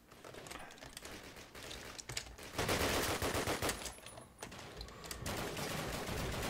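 Rapid gunfire in Call of Duty, dense bursts of automatic shots rattling continuously at moderate loudness with brief lulls between volleys.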